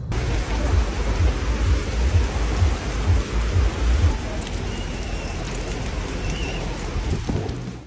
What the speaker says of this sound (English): heavy rains swept over Black Rock City